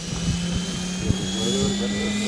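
A LOGO 800 radio-controlled model helicopter flies at the LBONA 2015 event, its rotor and motor making a steady droning hum with a high whine, moderately close and without talking.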